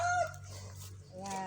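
Pet chickens on a farm cluck and crow nearby in a short, loud burst. Low background noise runs beneath them, and a little talk may be faintly present.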